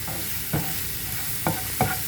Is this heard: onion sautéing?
yes